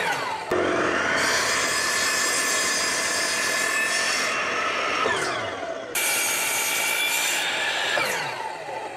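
A power saw cuts wooden boards to length, a loud, sustained whining cut through the wood with a brief break near the start and another short pause around the sixth second before the next cut resumes.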